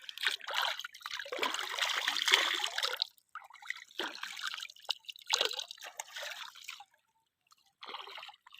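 Fresh river water trickles and splashes as hands and feet are washed in it, the sound coming close up in several bursts of dribbling and splattering with short quiet pauses between them.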